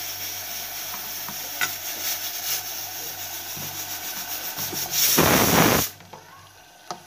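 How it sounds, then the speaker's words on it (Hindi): Chicken liver fries with browned onions and garlic in a pan, a steady low sizzle with scraping and stirring from a spoon and a brief louder burst of hissing near the end, close and alone. "देखिए मैं कलेजी भूनने जा रही हूँ।"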